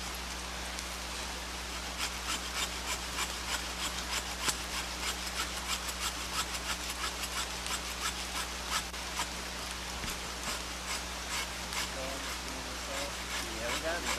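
A big crosscut saw cuts through wood outdoors beside a trail, its back-and-forth strokes rasping in a steady, even rhythm over a low constant hum, with faint voices in the background.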